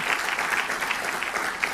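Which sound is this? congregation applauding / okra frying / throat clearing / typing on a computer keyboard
congregation applauding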